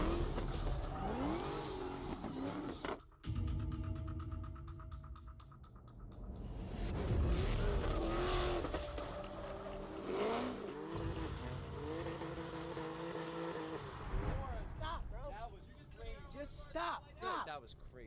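Race cars roar and rev with tire squeals during street racing in New York, loud and continuous, while excited voices talk and shout over the engines throughout.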